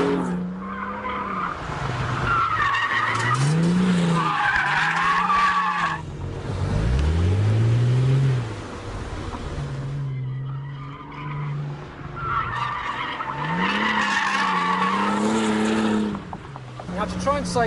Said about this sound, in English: This is a car that's actually been designed to be driven pretty hard.